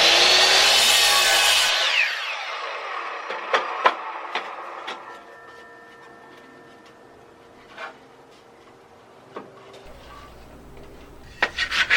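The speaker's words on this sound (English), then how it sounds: "I'm just going to square it off and use my miter saw" A miter saw cuts through a 2x4 wood board in one loud, brief burst, its blade whining as it winds down, followed by scattered light clicks and knocks in a quiet workshop.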